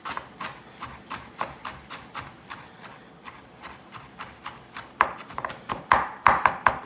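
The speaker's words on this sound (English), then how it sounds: "we're going to make some thin slices out of the ginger here" A kitchen knife cutting fresh ginger into thin slices on a board: crisp, regular chops at a steady rhythm of about two per second, close and clear, growing louder and denser near the end.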